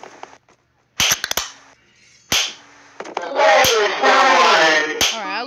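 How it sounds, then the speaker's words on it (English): Sharp gunshot cracks from a Baldi's Basics mod video game fire in a cluster near the start and again singly, loud and close, mixed with game sound effects and a rising, warbling electronic tone afterward. "I'm about to shoot him all the way down this"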